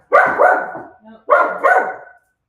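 A dog barks at a bird in a garden, giving two pairs of loud, close, sharp barks separated by a short pause.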